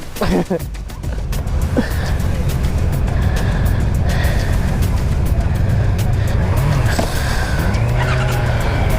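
A Honda CBR650R E-Clutch motorcycle pulls away and accelerates hard without the clutch lever, its rising engine note buried under heavy wind rush and road noise while a rider talks.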